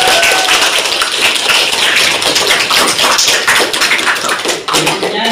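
A classroom bursts into dense, loud applause, rapid continuous clapping from many hands filling the whole stretch with no pauses.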